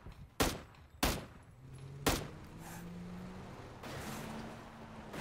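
Video game gunfire: three sharp, loud shots spaced about a second apart, then quieter mechanical rumble and scraping as the action continues.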